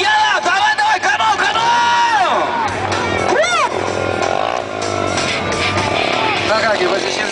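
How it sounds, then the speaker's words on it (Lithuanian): A mini dirt bike engine revs and whines through a warm-up at a bike show in Kaunas, rising and falling in loud sweeps close by, with an announcer talking over it and a crowd cheering. "pasišildė šiek tiek motociklą"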